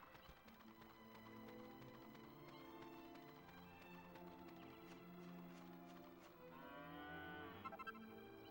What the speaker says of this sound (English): Anyway, cow.